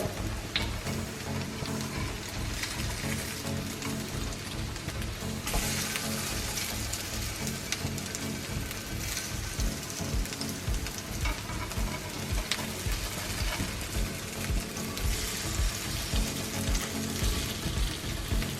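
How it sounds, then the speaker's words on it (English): Quinoa cakes fry in oil in a pan over medium heat, giving a continuous, even crackling sizzle that stays close and steady throughout with no talking. "So let it slowly cook, not too big fire, medium fire."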